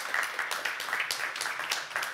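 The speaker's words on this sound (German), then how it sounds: "Mit einem Applaus kommst du auf die Bühne gestürmt." An audience at a meteorology media award ceremony claps as a guest comes onto the stage, a light, fairly distant patter of hands with distinct individual claps in a loose rhythm.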